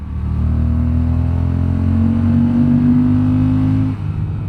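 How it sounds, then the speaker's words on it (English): A deep, steady Honda 1100 motorcycle exhaust rumble idles loudly and close, holding a low drone for several seconds before dipping briefly near the end. "how awesome the exhaust sounds"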